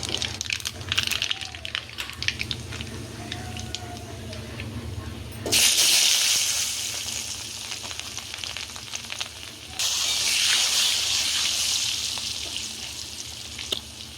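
Nigella seeds fry in hot oil with a continuous sizzle and crackle that swells loudly twice as more goes into the pan, with faint background sounds in between.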